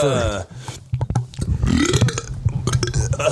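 A long, loud burp rolls out for several seconds close to the mic, with bursts of casual talk and background chatter mixed around it.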